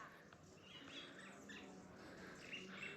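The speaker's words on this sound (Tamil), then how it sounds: "அந்த குருவியோட சத்தம் உங்களுக்கு கேட்கும்னு நினைக்கிறேன்." Small birds, apparently sparrows, chirp and twitter near woven nests hung around a village, a steady layer of high, bright calls at moderate distance over faint outdoor ambience, with no voices.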